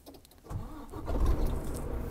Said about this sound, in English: so i'm gonna start my truck